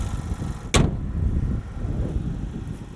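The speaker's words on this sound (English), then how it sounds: "The direct injectors whirring away in there." The 2023 Acura Integra's engine runs at idle with its direct injectors ticking and whirring, a steady low mechanical hum heard up close, broken near the start by one sharp click or thunk.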